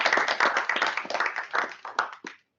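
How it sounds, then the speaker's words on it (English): A small astronomy society meeting audience gives a short, close round of applause, dense at first and then thinning into a few scattered claps before stopping. "One more round of applause."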